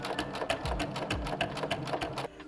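A Little Rebel sewing machine stitches a fabric training panel at medium speed and stitch length: a quick, regular mechanical chatter of needle strokes, close and continuous, stopping just before the end.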